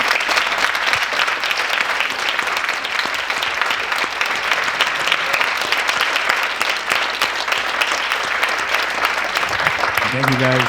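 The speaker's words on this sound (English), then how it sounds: "Can we please give a warm round of applause for Rob and Ryushin tonight?" Warm audience applause for two speakers at an evening dharma talk, sustained and even clapping from a room full of people that continues at steady loudness throughout.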